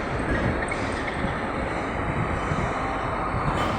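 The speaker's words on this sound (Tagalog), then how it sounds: "Yan yung tren." An MRT train passes through a station, a steady, loud broadband rumble of wheels and motors that runs unbroken for the whole stretch.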